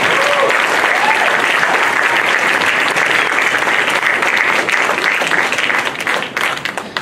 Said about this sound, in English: Let's give another big round of applause for all the musicians who came on stage to perform tonight.